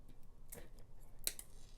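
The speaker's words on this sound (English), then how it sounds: "I think I'm going to try to cut that off. Let's see what happens. Okay, I have to be super careful. These are big scissors." Big scissors snipping through secondhand thrift jewelry, two sharp metallic clicks about a second apart, close and distinct over a faint room hum.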